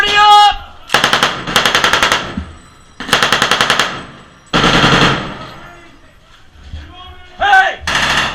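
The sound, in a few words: M240 machine gun firing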